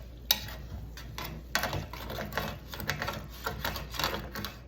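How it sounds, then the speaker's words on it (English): A spoon scraping and clinking against a pan while milk is stirred into gravy, irregular metallic taps and scrapes close up, with no one talking. "Okay, let's stir, stir, stir."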